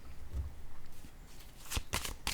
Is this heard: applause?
no